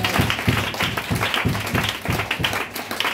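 A church congregation applauding, steady rhythmic group clapping that carries on loudly through the whole stretch, with faint voices mixed in.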